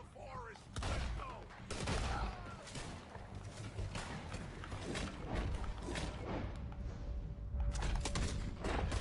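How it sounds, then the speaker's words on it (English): A fusillade of gunfire in Red Dead Redemption 2 crackles through a forest fight as a dense, irregular run of rifle and pistol shots, some close and some more distant, with voices heard in between. "Ah, shooting."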